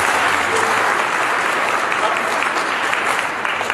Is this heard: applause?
yes